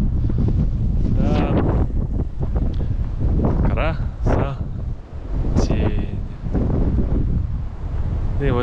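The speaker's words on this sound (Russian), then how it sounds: "Ветер сильно мешает." Strong blizzard wind buffets the microphone in a snowstorm in the mountains of Ossetia, a loud, continuous low roar with gusty swells that lasts the whole time, with someone speaking briefly underneath.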